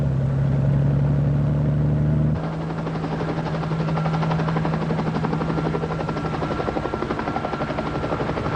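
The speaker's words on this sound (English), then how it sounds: "Helicopter 7A94 Sierra, ready for takeoff" A helicopter takes off, its loud, steady rotor and engine roar filling the whole clip with a constant whine. The pitch and texture shift slightly as it lifts away. No one speaks.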